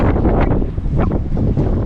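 Strong wind buffets the microphone with loud, continuous rumbling gusts, alone and close.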